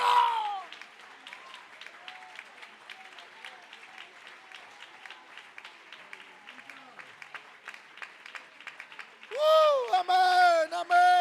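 An audience at a church youth camp service applauds in a sustained patter of clapping, moderately close, with a voice speaking at the start and louder vocal bursts rising near the end.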